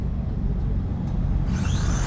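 Street race cars launch hard off the line at a drag race, engines roaring loud and close in a dense, continuous rush of noise that rises in pitch near the end.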